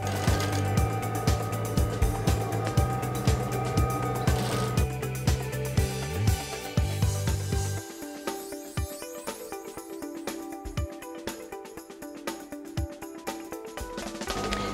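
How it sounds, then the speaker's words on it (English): Sewing machine running steadily while edge stitching along both sides of a gore seam on a Danshiki, a continuous mechanical whir with rapid needle ticks that shifts to a sparser, clicking rhythm partway through, with no talking. "So I will be applying the edge stitch on both sides of the gore, from the hemline to the top"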